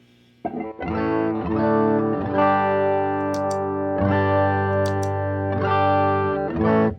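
An electric guitar through a Sproing reverb pedal, reverb engaged but set all the way down, rings out sustained chords, each strummed and held, with a slight shimmer of reverb.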